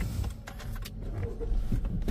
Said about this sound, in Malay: So kalau aku start kereta